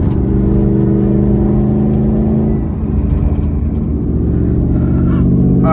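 An S550 Mustang GT with an S475 T6 turbo drives along in daily traffic, its engine holding a loud, steady drone close by that dips slightly midway and then builds again.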